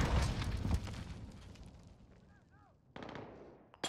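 Deployed turret firing in Call of Duty: Modern Warfare, with a dense burst of loud gunfire up front that fades into a decaying rumble, followed by another short burst near the end.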